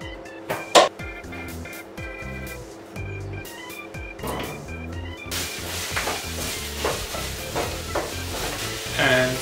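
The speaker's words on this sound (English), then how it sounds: "I will add celery that will be fried in the pan" Celery tipped into hot oil in a pan, a few clattering knocks and scrapes first, then a sudden loud sizzle that keeps crackling with stirring noises close by.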